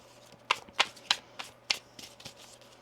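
Tarot cards are shuffled in quick, crisp riffles, about seven sharp bursts in under three seconds, close and clear in a quiet room.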